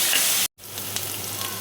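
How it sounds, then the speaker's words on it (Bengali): Bottle gourd peel frying in oil with salt and turmeric in a kadai, a steady close sizzle that cuts out briefly, then resumes more softly. "লাউয়ের খোসা দেখো ভাজা হয়ে গেছে"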